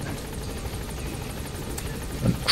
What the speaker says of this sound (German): Dann steigen wir jetzt in den Heli.